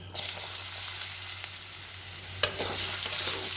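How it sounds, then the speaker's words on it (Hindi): Carrot pieces frying in a pan while upma is cooked, giving a steady, close hiss of sizzling oil that runs the whole time with one brief sharper crackle partway through and no voices. "इना तायम नोआ गाजर टुकरो बुन खांजो लेगे और बुन भाजाया"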